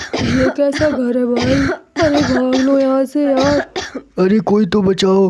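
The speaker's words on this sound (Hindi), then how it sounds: "ये किसके खांसने की आवाज है?" Two cartoon thieves cough and clear their throats hard from chilli smoke, the rough bursts mixed with their loud, panicked shouting.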